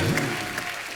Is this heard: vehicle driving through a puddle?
no